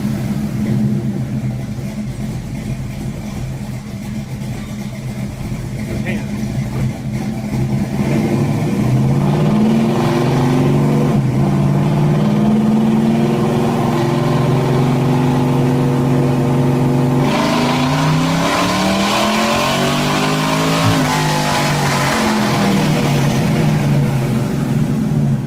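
A car engine revs loudly in repeated rising and falling sweeps, the pitch climbing and dropping under the throttle, with a sharper, louder burst of revving in the second half and no talk over it.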